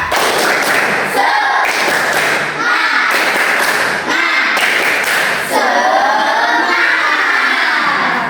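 A primary school class does a rhythmic spirit clap in a classroom, loud groups of sharp unison claps in repeating patterns, with children's voices shouting along between the clap bursts.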